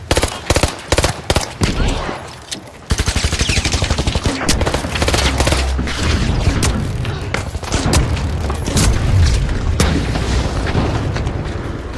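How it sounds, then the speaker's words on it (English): In the shooter game The Finals, sharp bursts of gunfire open the scene, then a frag grenade blast leads into a dense, loud, sustained barrage of shots and booms. "Throwing a frag."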